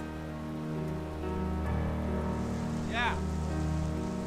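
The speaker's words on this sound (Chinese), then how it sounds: "下那么大雨啊" Heavy rain pours steadily, a dense hiss of drops on surfaces running under soft music, while a woman briefly calls out.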